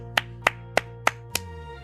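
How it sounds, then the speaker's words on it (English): Five sharp hand claps ring out alone at an even, unhurried pace, each crisp and close with a short tail. "More clapping."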